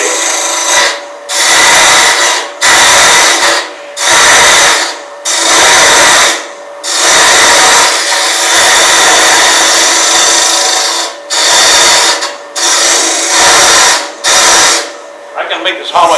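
Wood lathe hollowing a turned vessel with a stabilized hollowing tool: roughly eight loud, rasping cutting bursts of a second or two each, separated by short pauses, close to the microphone.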